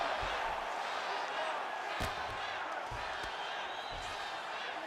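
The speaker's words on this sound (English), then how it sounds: "huge pop from the crowd as the fighters get back up to their feet" A crowd roars in a UFC fighting video game as the fighters get back up to their feet. The cheering is loud and steady across the whole stretch, with low thumps and a commentary voice underneath.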